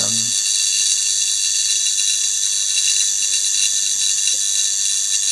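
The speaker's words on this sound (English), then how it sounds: "that's it running with a capacitor and a neon sign transformer" A spark gap fed by a neon sign transformer with a capacitor, running as its chamber slowly loses vacuum, gives a steady, loud, continuous buzzing hiss that holds without break.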